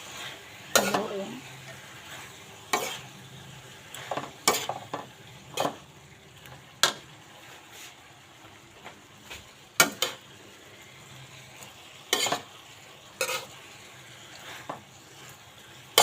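Sprouted mung beans being stirred in a frying pan, with a steady low sizzle under repeated sharp scrapes and clacks of a utensil against the pan at irregular intervals, close up and alone.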